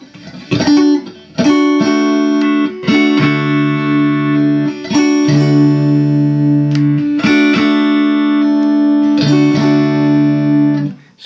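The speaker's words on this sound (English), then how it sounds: "It's a real chimey sound that comes when you're in position 4 on your selector switch, which means that it's the neck and the middle pickup." Fender Stratocaster electric guitar with the selector in position four, neck and middle pickups together, played clean in a bright, chimey tone: several sustained notes and chords, each ringing out loud and close with no talking.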